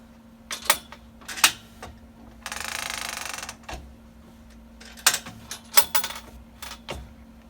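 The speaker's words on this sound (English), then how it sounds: "I want to go ahead and go roll up my quilt." A quilt being rolled up on a quilting machine frame: several sharp clicks and clunks of the frame mechanism around a second-long continuous rolling whir, over a steady low hum, close by.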